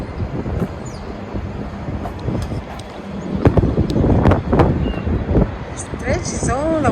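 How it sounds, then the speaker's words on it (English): Strong wind blows outdoors in Washington DC, a gusty broadband roar buffeting the microphone and rising in bursts, with a person talking over it. "It's very, very windy"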